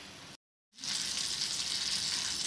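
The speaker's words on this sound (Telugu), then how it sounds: "చూసారా, నూనె హీట్ అవుతుంది." Oil heating in a pan for deep-frying eggs: a soft hiss that cuts out briefly, then returns as a louder, steady bright sizzle held to the end, with no talk.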